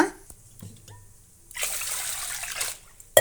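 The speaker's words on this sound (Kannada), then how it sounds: "ಈಗ ಒಳ್ಳೆ ಕುಡಿಯೋ ನೀರಿನಿಂದ ನೆನೆಸೋಣ ಅಕ್ಕಿನ" Drinking water pours into a bowl of washed rice being soaked for onion dosa batter, a gushing stream lasting about a second after a few quiet drips and taps, ending with a sharp clink.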